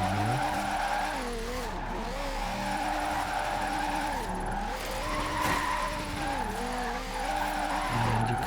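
Tyres squeal and skid continuously as a car drifts in the racing game Forza Horizon 4, the engine note rising and falling in long sweeping arcs, loud and up close throughout.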